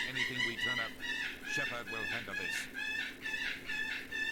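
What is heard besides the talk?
birds screaming in the background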